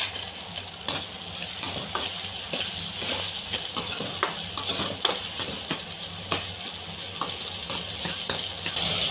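Tomato pieces frying in a pan with rock salt: a continuous sizzle with repeated scraping stirs and soft utensil clicks, close and steady, with no voices.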